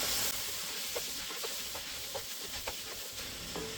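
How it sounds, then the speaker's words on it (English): A spoon stirs simmering salmon chowder in a pot: soft, irregular scrapes and clinks recur over a continuous faint hiss and bubbling, quiet and close, with no talk. "And stir."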